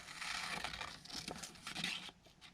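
Paper is cut with scissors while a Christmas tree trunk is trimmed to size, giving soft, close crinkling and rustling with a few quick snips, all fairly faint.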